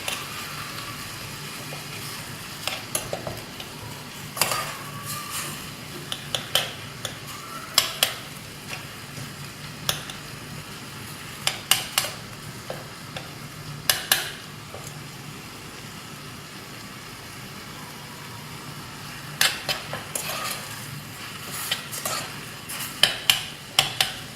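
Tomatoes frying in a pan while a spoon scrapes and stirs them now and then, giving a soft steady sizzle broken by sharp clinks against the metal.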